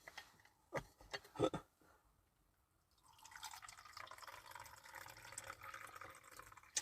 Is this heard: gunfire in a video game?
no